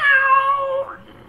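Meowth, the cat-like Pokemon in Pokemon Ultra Sun, gives a single drawn-out meow that holds steady and then tapers off near the end, clear and close with no talk.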